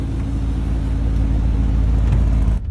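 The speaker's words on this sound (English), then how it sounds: "this is a 4-liter twin-turbo V8 with 600 horsepower" An Audi with a 4-liter twin-turbo V8 producing 600 horsepower, heard as a loud, steady low engine rumble from close by, holding even before cutting off abruptly near the end.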